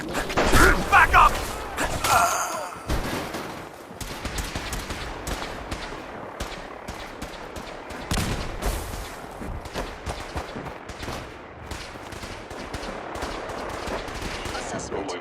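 Bursts of automatic gunfire and impacts in the video game Fallout 4, dense rattling volleys with sharp cracks, loudest at the start and continuing in rapid clusters.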